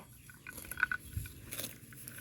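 Grazing cows chew on grass out in a pasture, making soft crunching and tearing bites close by. The chewing comes in an irregular rhythm and is quiet overall.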